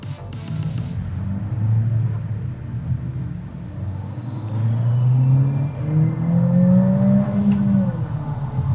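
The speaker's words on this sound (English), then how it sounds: "I wish the exhaust was a little naturally louder. They pipe in some noise, and it's a nice noise." A 2020 Honda Civic Si engine hums and rises in pitch as it accelerates, a steady droning exhaust note with piped-in sound heard from inside the cabin.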